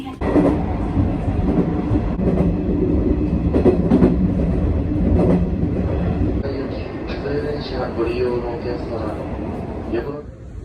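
A Fukuoka subway train rolls along with a steady, loud interior rumble and rhythmic wheel clatter, the hum shifting as it slows near the end, heard from inside the carriage without voices.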